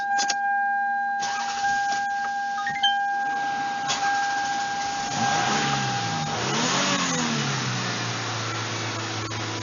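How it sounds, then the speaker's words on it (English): A car engine is started after a throttle body cleaning: faint whirring and electrical tones first, then the motor fires and revs up and down in a couple of swells before holding a steadier idle. "So we're going to start it up. It might be a little hard to start, so we might have to give it some gas."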